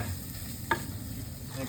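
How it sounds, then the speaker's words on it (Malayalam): Coriander, chilli and turmeric powder fry in a pan while being stirred, giving a steady soft sizzle with one sharp scrape of the spoon against the pan. Close and quiet. "മല്ലിപ്പൊടി, മുളക് പൊടി, മഞ്ഞൾപ്പൊടി ഒക്കെ ഇട്ട് ഇളക്കുകയാണിത്"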